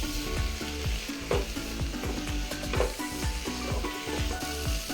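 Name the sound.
stirring tomatoes frying in a pan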